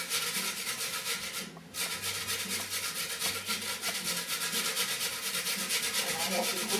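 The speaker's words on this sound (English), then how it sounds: "I'm going to grate them now on an old-fashioned grater, the small part" Peeled potatoes rubbed across the small holes of an old-fashioned hand grater, a fast steady rasping scrape repeating close up with one brief pause.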